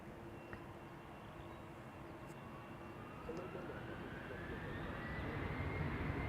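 A KLM Embraer 190 jet departing Amsterdam Schiphol for Birmingham, a steady engine roar with a rising whine that gradually grows louder.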